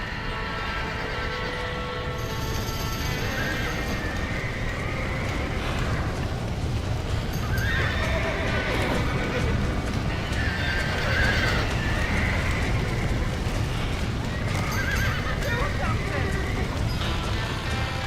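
Horses whinny repeatedly amid a loud, chaotic scene in the video game Red Dead Redemption, with hooves clattering, constant rumbling noise and shouting voices throughout.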